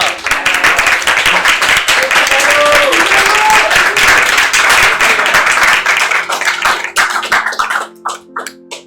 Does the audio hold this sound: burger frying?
no